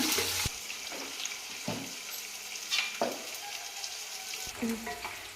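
Sliced onions fry with cumin in hot oil, giving a continuous sizzle broken by several scraping stirs of a spatula against the pan. The sound is close and moderately loud, with no voices.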